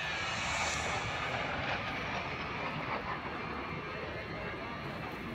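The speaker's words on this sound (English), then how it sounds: "Scott Farnsworth dives the Super 39 to show center, trading his altitude for lots more energy" A Super 39 airshow plane diving toward show center at an air show, a broad roaring engine and rushing air sound, steady and fairly distant, heard under a commentator's voice.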